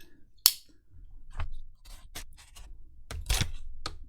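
Scissors snip through double-sided tape inside an Acer Aspire A315 laptop with broken hinges, giving a few sharp, close cuts and scrapes spaced irregularly over a quiet background.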